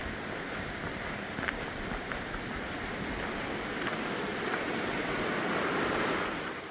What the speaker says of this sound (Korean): 계곡 물소리가 우렁찬 걸 보니 이제 봄이 왔습니다